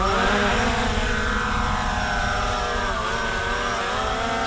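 A Hubsan Zino 2 quadcopter drone lifts off nearby, its rotors giving a loud, steady, multi-toned whine that holds evenly throughout with slight pitch wavering.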